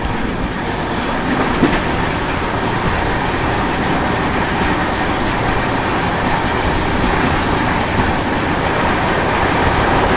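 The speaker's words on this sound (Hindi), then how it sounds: "Rajdhani overtaking Andaman express." The Bangalore Rajdhani train overtakes the Andaman Express, heard as a continuous loud rumble of rolling coaches with rhythmic wheel clatter and a faint squeal, with no talking.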